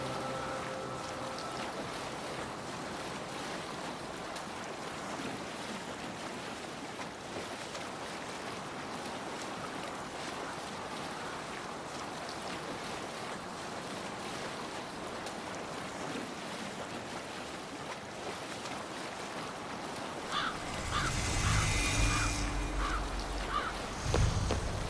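A sailboat in an Assassin's Creed Valhalla game moves across ocean waves, with a steady rush of water and wind that swells louder near the end.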